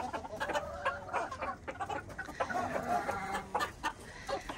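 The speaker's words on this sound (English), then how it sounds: "And that is just the life with silky chickens." Silkie chickens cluck on a homestead, with several birds making repeated short, close clucks and murmurs in an uneven rhythm against quiet background noise.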